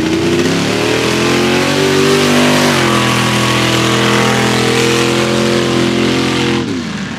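Two mud drag racing machines, Big Red and Farm Fresh, roar with a loud sustained engine howl, the pitch climbing then shifting as they charge down the mud track before easing off at the end.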